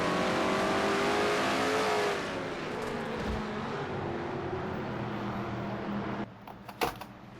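A stock car in a racing video game revs hard through its RPM range. The loud engine whine climbs, then eases to a steadier drone as another car passes, and a few sharp clicks come near the end.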